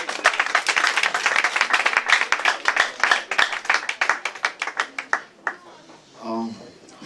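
Church audience applauds a reverend, a crowd of hands clapping loudly and fairly close for about five seconds before thinning out, then a voice begins speaking.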